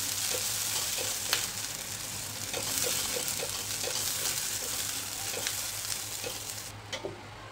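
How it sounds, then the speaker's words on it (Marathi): Ground spice paste fries with tomato in a pan, giving a steady, close sizzle broken by light scraping and stirring clicks, with no voices. "त्यामध्ये आता आपण हे वाटण बनवून घेतलंय ते टाकायचं. आणि हे वाटण छान परतून घ्यायचं."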